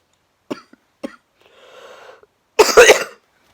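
A few sharp coughs from a woman with Covid, close to the microphone, spaced apart, followed by a rough breathy exhale and a final loud burst of coughing.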